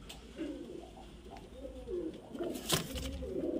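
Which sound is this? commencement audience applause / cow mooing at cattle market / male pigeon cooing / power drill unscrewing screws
male pigeon cooing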